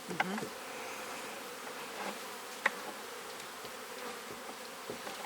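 A steady, dense hum of many honeybees buzzing close by at a small hive on five frames, continuous throughout, with a few soft clicks and taps over the drone.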